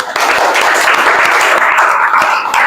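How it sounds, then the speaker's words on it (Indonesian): Classroom applause for each student group at the end of a lesson, a dense, steady burst of many hands clapping that lasts about two and a half seconds and then stops abruptly. "berikan aplaus untuk setiap kelompok"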